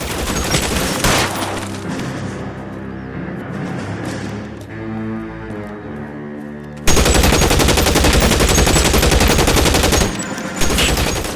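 Sustained gunfire out a window in the video game LA Noire, rapid automatic bursts that pause briefly, then return loud and continuous for the rest of the stretch.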